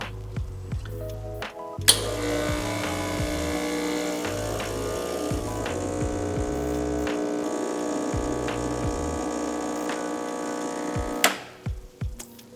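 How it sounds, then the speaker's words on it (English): A single boiler espresso machine pump kicks in with a thump and hums steadily for about nine seconds while brewing a shot, then cuts off, with faint clicks around the start and end. "That shot brewed a little fast"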